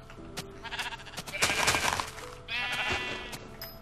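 Sheep bleating in a video game, several bleats at moderate distance with a muffled crack and faint game noise around them.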